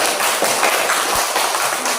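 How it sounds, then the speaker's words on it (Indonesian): A class of pupils applauding a group's presentation, a bright, dense wash of many hands clapping together, loud and sustained without a break. "tepuk tangan untuk kelompok 1"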